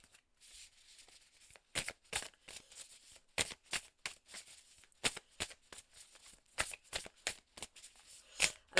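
Oracle cards shuffled for a reading, a rapid series of crisp riffling bursts and soft slaps repeating irregularly, close and quiet with no talk.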